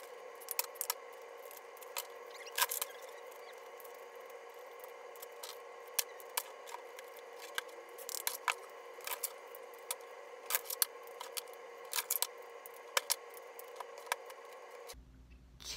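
Tarot cards being shuffled by hand: soft, quiet papery rustling with scattered light clicks and flicks, irregular and close, running on for about fifteen seconds with no talking.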